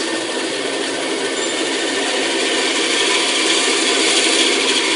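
A band saw whines steadily as it cuts a guitar bridge from wood, sparking slightly against the blade guides, a constant loud buzzing hiss without pause.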